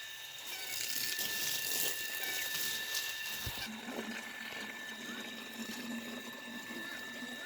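Water splashes and trickles steadily as a vegetable garden is watered outdoors, a soft continuous spray with a fainter tail in the latter half, and a steady insect-like whine above it.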